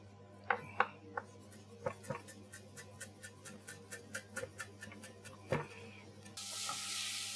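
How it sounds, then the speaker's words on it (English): Fresh dill chopped with a kitchen knife on a board, a quick run of faint, evenly spaced taps after a few scattered knocks, ending in a brief burst of hiss. "I'll chop this dill up."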